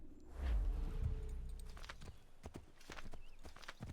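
Horse hooves clip-clop in Assassin's Creed 3, a quick run of hoofbeats near and clear with a low rumble at first, continuing in brisk, uneven strikes.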